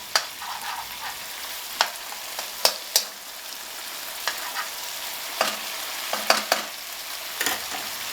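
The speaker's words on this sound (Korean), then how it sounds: "재료들이 타지 않도록 불을 조절해 가면서 잘 볶아주면 된다" Ingredients stir-fried in a pan on the stove for a rice dish: a steady crackling sizzle runs throughout, broken by sharp scrapes and clanks of a utensil at irregular intervals, close up and with no talking.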